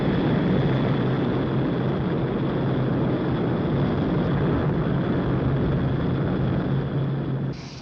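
An Avro 748, a short to medium-range 62-seat propeller airliner, gives a loud, steady, sustained engine roar with a constant whine, continuous throughout and cutting off at the end.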